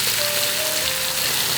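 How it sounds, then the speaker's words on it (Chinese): Fish skin frying skin-side down in hot oil in a pan, a dense close hiss and crackle of sizzling that holds steady for a moment with no talk. "准备上锅煎，锅热倒油，鱼皮面先给它下锅哈"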